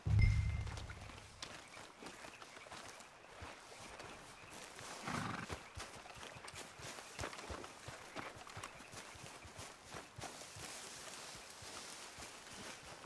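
Horses in the Red Dead Redemption II video game: a loud low snort or whinny opens, then a steady bed of soft hoof movement and outdoor ambience continues under faint game sounds, with no talking.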